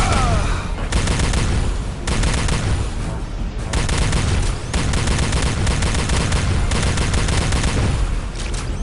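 Continuous heavy gunfire in Star Trek Elite Force II, dense rapid shots and booming impacts packed together at high volume, with short dips in the barrage every second or so.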